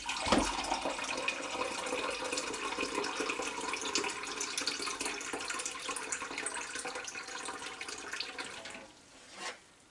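Cold water pours steadily from a tap while making Gouda-style sheep's milk cheese, a continuous hissing splash that holds for several seconds, then cuts off near the end with a brief gurgle.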